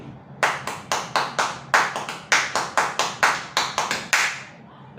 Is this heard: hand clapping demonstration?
yes